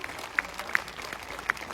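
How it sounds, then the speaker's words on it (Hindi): Scattered audience applause at the Gyanoday 3.0 event in Suratgarh, Rajasthan: a few sharp, isolated claps stand out over a soft, steady crowd wash, fairly faint overall. "आपकी तालियां रुकनी नहीं चाहिए जब तक कि सर बोल नहीं देते"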